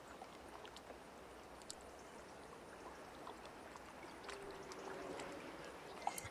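Flowing river water at a fishing spot in Call of the Wild: The Angler, a faint, continuous trickling wash with small splashy flickers near the end.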